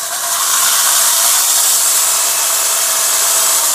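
Cordless battery chainsaw with a 14-inch chain running steadily and loud throughout, a continuous bright whine with no talk.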